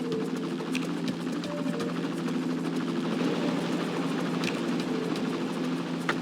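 Police helicopter in the video game Police Quest: SWAT 2, a continuous rotor and engine drone with an even low hum and chopping texture, holding steady throughout, with a few sharp clicks over it.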